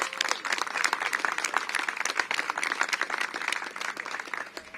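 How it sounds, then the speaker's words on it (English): A crowd at an outdoor mayoral celebration for a city solar-installation program claps for the program's staff: a dense, fairly distant patter of many hands, steady throughout. "so I want to give them a big round of applause"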